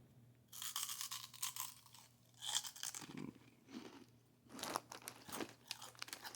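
Buc-ee's pork cracklins are crunched in bursts of loud, crisp, close-up crackling bites with quieter pauses between, and nobody talks.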